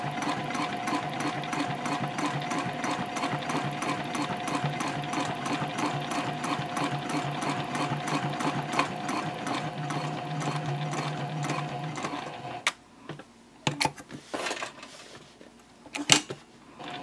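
A sewing machine stitches steadily down the side of a fabric bowler bag in a fast, even run of needle strokes for about twelve seconds, then stops, leaving a few sharp handling clicks and knocks.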